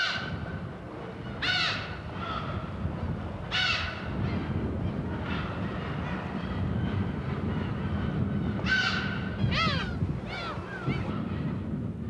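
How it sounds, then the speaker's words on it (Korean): Seagulls calling inside a volcanic crater on Dokdo island, with several sharp descending cries that come in scattered bursts and echo over a low, continuous rumble of wind and surf. "그리고 화산 분화구의 공명되어 들려오는 갈매기 소리는 신비로움의 극치다"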